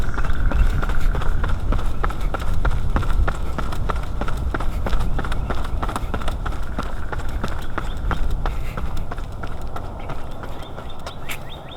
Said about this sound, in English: This is another running sideways test with the Comica deadcat windscreen on there.